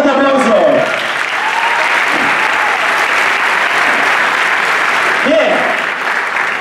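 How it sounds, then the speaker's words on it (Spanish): A crowd at a choreographed dance show applauds steadily and loudly throughout, with an announcer's voice calling out over the clapping at the start and near the end. "¡Un fuerte aplauso!"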